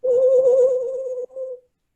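A screech owl gives a steady, even trill, a single sustained call of about a second and a half with a brief break near the end, heard alone and fairly close.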